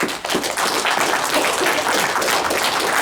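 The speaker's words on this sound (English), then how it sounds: "You all give yourself a hand of applause, okay?" A crowd at a Tea Party tax day rally in Dubuque, Iowa claps loudly and steadily in a dense, continuous burst of applause that fills the whole short stretch.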